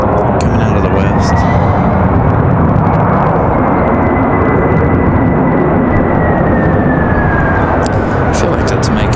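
An airplane arrives at Raleigh-Durham airport on a night with a slight west crosswind, a loud, continuous roar filling the scene for the whole stretch, with a rising whine faintly threaded through, and someone speaking over it.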